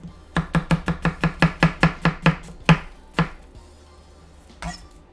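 A knife chops a whole yellow sweet onion on a cutting board in a quick run of about ten evenly spaced sharp thuds, then two slower strikes, a pause and one last faint tap, close and clear.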